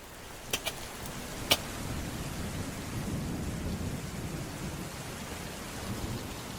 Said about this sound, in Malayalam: ഇനിയും മഴ വരുന്നുണ്ട്